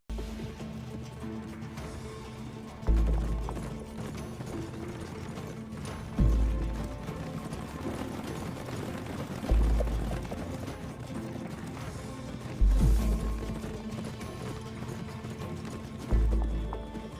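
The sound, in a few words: horse galloping through a forest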